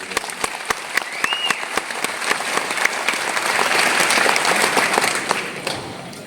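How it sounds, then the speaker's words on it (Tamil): A crowd breaks into steady applause that swells and holds, with sharp individual claps standing out near the front. "தயவு செஞ்சு ஒரு ஒரு கைத்தட்டல்"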